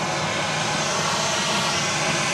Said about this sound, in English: Next arrival, Southwest Flight 745, arriving from Long Beach